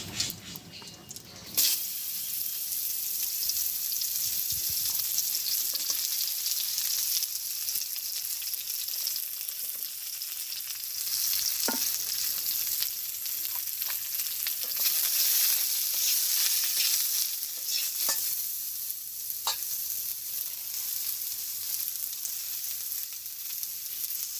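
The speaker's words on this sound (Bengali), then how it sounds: "পটলটা ভাজি করে নেব" Pointed gourd (potol) fries with whole cumin seeds in oil in a village kitchen pan, a loud, continuous close sizzle with occasional stirring clicks over about twenty seconds.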